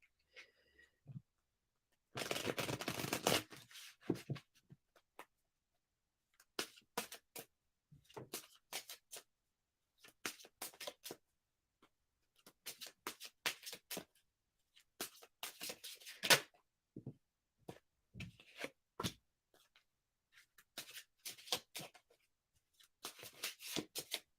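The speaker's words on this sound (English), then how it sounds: "Shuffle and then pull a card, Hershey." Repeated bursts of tarot cards being shuffled and riffled, close and fairly loud, with pauses between handfuls and no talking.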